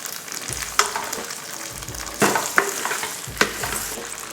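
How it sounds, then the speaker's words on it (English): Pasta being stirred in a hot pan with oil, giving a steady sizzle broken by several sharp scraping and clinking strokes at irregular intervals, close and fairly quiet. "Stir it around a little and get that all nice and coated."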